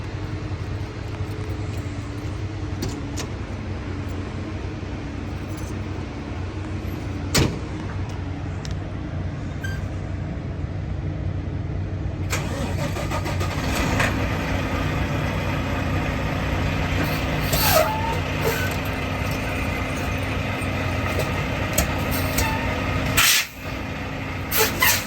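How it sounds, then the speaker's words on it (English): A truck fitted with tire chains idles with a low, steady engine rumble, then grows louder and rougher as it starts rolling forward, with a short hiss of air brakes near the end. "I'm going to get in the truck and I'm going to roll it forward"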